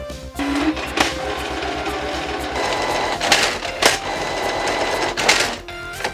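A Canon inkjet printer runs a print onto water slide decal paper, giving a steady mechanical whir with repeated carriage shuttles and clicks. It plays alone at close range for several seconds.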